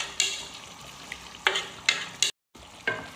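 A spoon stirs marinated chicken and masala in a frying pan over a soft, steady sizzle, with several distinct scraping strokes at irregular intervals and a brief gap of silence; no talking.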